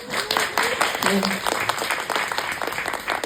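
An audience at a film screening Q&A in the Kim Geun-tae Memorial Library claps in a dense, continuous burst, with voices and a brief higher vocal tone mixed in over the applause.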